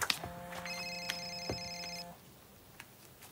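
A telephone rings indoors in a Russian film scene, with two short bright electronic trilling bursts, moderately near, then the line falls quiet with faint room tone and no speech.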